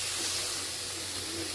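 A little water poured onto vegetables cooking in a hot pan with a pinch of sugar: a brief, steady hiss of steam and spatter, close and unbroken.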